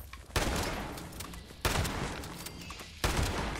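Three loud bursts of gunfire about 1.3 seconds apart, each a sharp hit trailing into a decaying rattle, fired inside a Wendigo cave in Fallout 76 Wastelanders.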